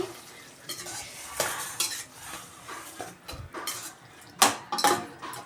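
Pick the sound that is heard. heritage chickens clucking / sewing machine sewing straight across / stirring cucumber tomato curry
stirring cucumber tomato curry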